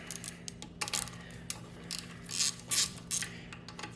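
A ratchet wrench removes 8mm bolts from a Honda UMK422 string trimmer, with close, irregular clicking bursts of the pawl and a few sharper metallic clinks as the bolts turn loose.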